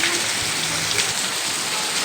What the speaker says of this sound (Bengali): এই যে বৃষ্টির জল পড়ছে